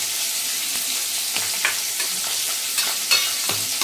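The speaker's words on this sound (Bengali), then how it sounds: "মাছ এখন দুখানা ভাজবো" Fish sizzling steadily in hot oil for a maccher jhol, a dense continuous frying hiss with a few soft stirring or spatter pops, close by and with no talk.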